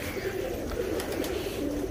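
Soft, low pigeon coos murmur continuously throughout, steady and close, with a faint rustle of background noise and no talking.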